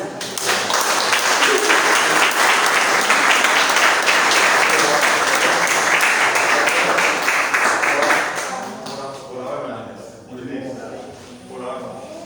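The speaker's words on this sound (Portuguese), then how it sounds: "E as palmas louvam ao Senhor Jesus" Loud congregation applause at a church service, dense clapping filling the room for about eight seconds before fading out, with voices continuing quietly afterward.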